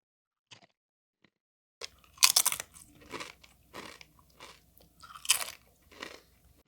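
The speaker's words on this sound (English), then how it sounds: "Now let's eat an annoyingly loud, crunchy chip." A loud crunchy chip snaps and is chewed up close in repeated bursts of crackling crunches after a near-silent start, with no talking.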